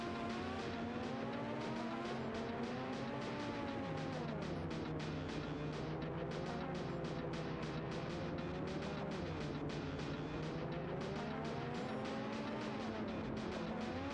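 An F1 race car in the SNES game F1 Pole Position, its synthesized engine tone whining and wavering steadily, with a rapid repeating tick throughout and low overall volume.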